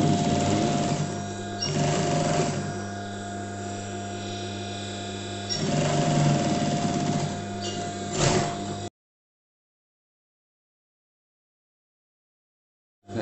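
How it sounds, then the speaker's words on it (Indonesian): A sewing machine stitches a welt pocket with a close, steady mechanical hum that dips briefly and resumes. It stops abruptly after about nine seconds, leaving silence before a short final burst. "Nah, lalu kita jahit dulu di sini."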